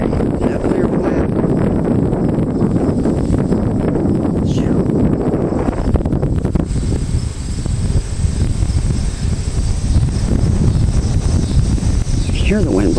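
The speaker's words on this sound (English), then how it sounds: "You hear the wind blowing now, wow." Storm wind blowing hard and steadily near a nuclear plant, a loud rushing roar buffeting the microphone throughout with a constant insect-like chirring beneath it.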